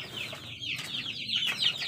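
Free-range village chickens clucking inside a rearing coop, several close, overlapping soft clucks and chirpy calls over a low farmyard background hum, with no talking.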